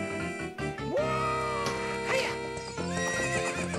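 Horse neighing in The Legend of Zelda: Ocarina of Time 3DS during a horse race, loud whinnies with rising and falling pitch over galloping hoof clip-clops and in-game music, no talk.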